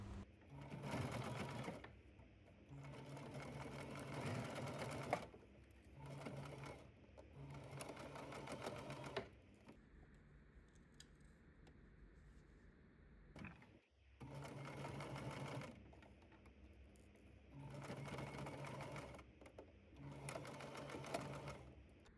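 A sewing machine stitches a make up bag in repeated bursts of steady, whirring mechanical hum, stopping and starting several times with quieter pauses between runs.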